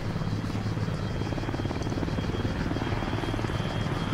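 Steady, continuous rotor thump and engine drone of a helicopter flying in ArmA 3, moderately loud and unbroken throughout, with no talk over it.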